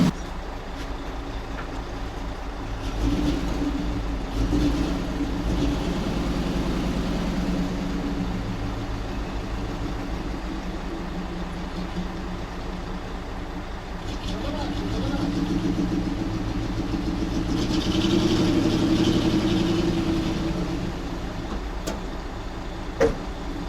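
A GAZ-66 truck engine runs at moderate volume as the truck is moved into position, a low steady rumble that swells gently and then settles, with voices talking over it.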